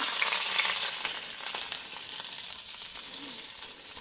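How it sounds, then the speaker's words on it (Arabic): Steady, close sizzling of garlic frying in hot ghee, a continuous crackle and hiss with small pops and no voices. "هلا راح نقليها، اسمعوا على الطشة"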